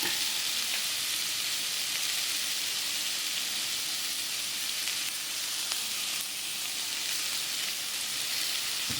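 Boiled chickpea sundal is stirred in a hot pan, with a continuous, even sizzle and faint scraping throughout and no voices.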